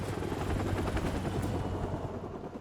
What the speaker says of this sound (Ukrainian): Оп, вертольот, вертольот.